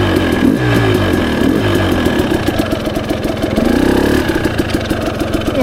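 A 2024 Beta 300 RR Race Edition two-stroke dirt bike engine runs close and loud, with a continuous buzzy rattle and small throttle surges on a single track.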